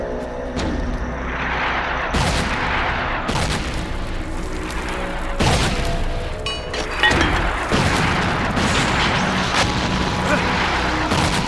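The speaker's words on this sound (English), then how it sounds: "my command, 3 rounds fire for effect" An artillery section fires for effect on command: a series of heavy, sharp booms strike one after another over a continuous loud rumble, each blast close and forceful.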